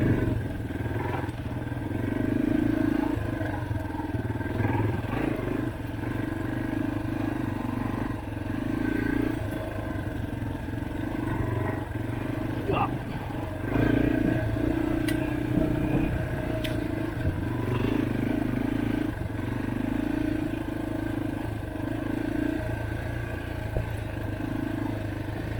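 A dirt bike engine revs on and off the throttle at a motorcycle show, loud and close, rising in repeated surges with a steady mid-pitched drone throughout and no talk.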